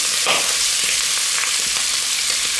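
Chicken hearts and gizzards browning in a pan, giving a steady, loud, close frying sizzle with a hiss throughout and faint stirring clicks, with no voices over it.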